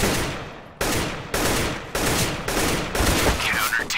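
Loud, close gunfire from the game CS:GO: a string of heavy shots roughly every half second, each a sharp blast with a ringing tail, ending in a denser burst, with no voices over it.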